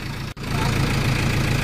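A tractor stuck in deep mud on a rain-soaked dirt road runs with a loud, steady low engine drone, interrupted once by a brief dropout.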